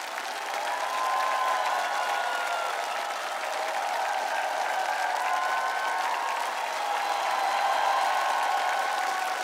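A large studio audience at a masked singing show gives a standing ovation, a dense, steady wall of applause that holds at an even level for the whole stretch.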